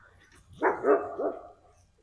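A dog named Sherlock gives three quick close barks in a row at a loud truck, then goes quiet.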